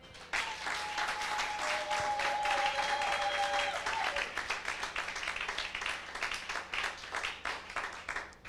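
A church congregation applauds loudly and steadily, the clapping sustained throughout and thinning slightly toward the end, with a brief ringing tone or cheer rising over it early on.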